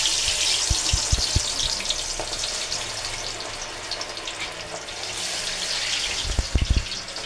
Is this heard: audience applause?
no